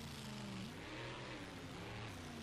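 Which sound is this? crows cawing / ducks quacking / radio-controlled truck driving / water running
radio-controlled truck driving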